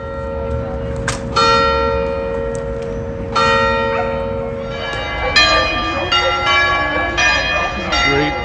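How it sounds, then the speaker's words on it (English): Church bells ring loudly in a square in Milan, several overlapping strikes sounding in irregular succession, with their ringing tones hanging in the air and faint background noise underneath. "The bells are driving the dogs crazy."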